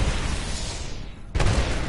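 Grenade blast in an online shooter game: a loud, dense rumbling roar fades and thins out, then a fresh sudden boom cuts in and rumbles on, heavy in the low end, with no voices.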